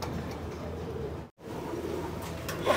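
Pigeons coo softly and continuously in a loft during feeding, a near, low murmuring chorus with a brief gap in the middle.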